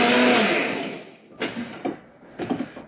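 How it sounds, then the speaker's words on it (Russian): A kitchen blender whirs loudly, blending a millet and pumpkin bread batter, then spins down and cuts off, followed by a few short knocks and scrapes of handling. "И точно так же отправляется все в блендер."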